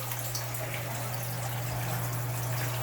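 Water from a submerged pump flows and trickles steadily through an RDWC hydroponic bucket system, a soft continuous splash over a constant low electrical hum, fairly faint and without talk.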